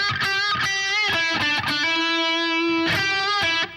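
Trebly electric guitar through a half-pressed wah-wah pedal, playing a solo lick of sharp picked notes and a long sustained bend, loud and alone without talk.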